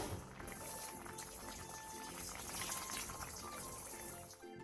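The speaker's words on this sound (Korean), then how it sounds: "물이 끓어오르면 중약불로 줄여 15분에서 20분 정도 더 끓여주세요" A Korean tofu braise simmers in a pot on medium-low heat, giving a steady, dense bubbling hiss that runs unbroken throughout, close and moderately quiet.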